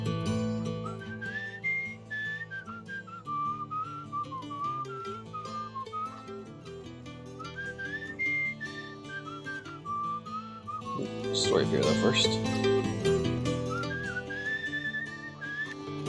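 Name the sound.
person whistling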